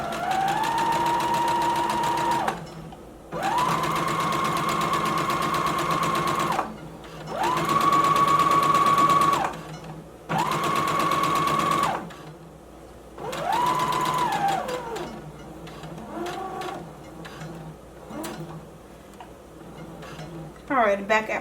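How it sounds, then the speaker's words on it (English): A sewing machine stitches a maxi skirt seam in several sustained whirring bursts separated by short pauses, close and loud, with a voice talking in the gaps. "lower your needle, begin sewing, and back stitch"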